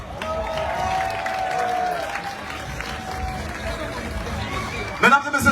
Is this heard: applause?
yes